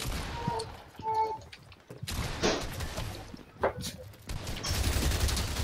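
Gunfire in the Fortnite video game, several quick bursts of shots mixed with panicked players shouting over one another at moderate level.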